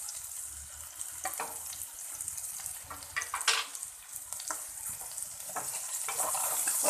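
Raw mango chutney sizzles and fries in a pan while being stirred, with continuous close frying hiss and scraping strokes of the spoon against the pan.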